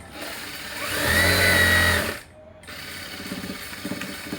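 A sewing machine stitches a blouse lining in one fast, loud burst of about a second, close by, followed by quieter handling and fabric noises.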